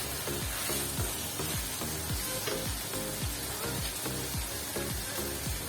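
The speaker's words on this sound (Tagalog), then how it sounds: "Mix the chicken with the garlic and with the onions." Chicken tossed with garlic and onions in a pan for Filipino chicken afritada, a steady loud sizzle broken by regular scraping strokes of a spoon, close up and without talk.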